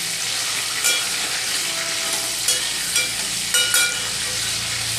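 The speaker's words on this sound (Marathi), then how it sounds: "तेल तापवल्यानंतर डायरेक्ट खेकडी टाकायची आहे परतवण्यासाठी" Crabs sizzle steadily in hot oil in a pan, a constant close, loud crackling frying sound with a few brief louder spits and stirring bursts, no voices.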